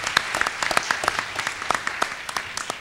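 A seated audience at a Mexican book launch on mergers and acquisitions claps for an honoree. Many crisp, distinct claps ring out in a lively, moderately loud burst that carries on without pause, and no one speaks over it.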